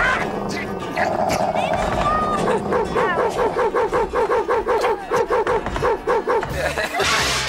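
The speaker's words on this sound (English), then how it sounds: "Stupid dog! Silly dog! Stupid dog! What a horrible dog!" A dog in the Dick and Dom in da Bungalow studio barks and yips in a rapid, regular run of sharp barks, loud and close, with excited voices and crowd noise around it.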